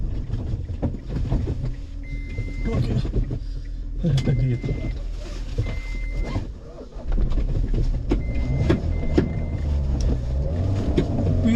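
A dune buggy engine roars at full throttle as it climbs a sand dune during a dune race. The loud, steady drone is mixed with wind buffeting the microphone, and voices call out over the noise.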